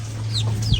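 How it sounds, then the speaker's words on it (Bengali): A chicken clucks and squawks in short agitated bursts while being caught, close and fairly loud over a steady background hum. "আর একজন মুরগি ধরতেছে"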